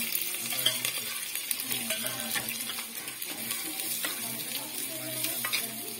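Onions fry in a tempering of hot oil inside a clay pot, producing a dense continuous sizzle and crackle with faint stirring scrapes, close and even in level, with no speech.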